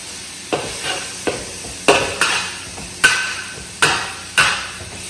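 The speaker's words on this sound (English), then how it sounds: "So now I will put all the ginger here to fry with the meat a little bit." Ginger and meat get stirred in a frying pan, with a soft sizzle underneath and a series of sharp spatula scrapes and knocks against the pan at an uneven rhythm, close by.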